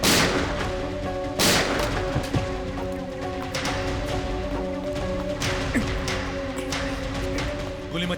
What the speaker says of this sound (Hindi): गोली मत चलाओ विवेक